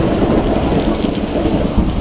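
Heavy rain pours steadily and loudly with a deep rumble of thunder running underneath, a dense continuous wash with no voices.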